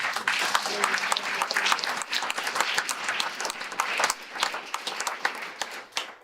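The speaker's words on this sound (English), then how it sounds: "more round of applause, please." An audience at a university State of the University address bursts into sustained applause, dense crowd clapping rising and falling steadily for several seconds without a break.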